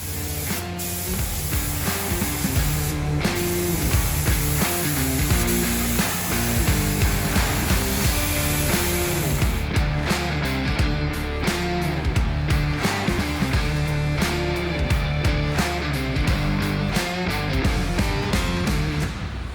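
Spray gun hissing steadily while painting the lower section of a rusty Ford F250 pickup in a second two-tone color, masked and taped off, with loud music playing over it throughout.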